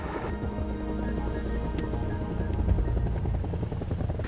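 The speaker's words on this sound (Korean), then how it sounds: "바로 헬기에 달린 블레이드 때문에 헬기가 가만히 있지 못하고 요동치기 때문이다." Cobra AH-1 attack helicopter hovering, a steady close rotor-blade thrum with a continuous engine drone and rhythmic blade pulses throughout.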